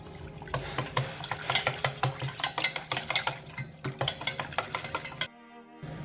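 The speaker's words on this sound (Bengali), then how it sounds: "এবার আমি খুব ভালো করে লাসির সঙ্গে বেসনগুলোকে খুব ভালো করে গুলিয়ে নেব।" Gram flour (besan) whisked into lassi in a bowl for Punjabi-style kadhi pakora, with a quick, steady rhythm of close utensil scrapes and taps, then a sudden stop near the end.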